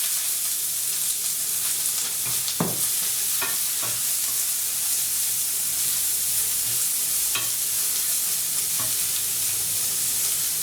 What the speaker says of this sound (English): I'm going to put the onions in the frying pan